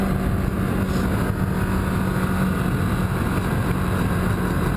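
A motorcycle rides along a twisty road, its engine drone buried under constant roaring wind buffeting. The noise is loud, close and unbroken throughout.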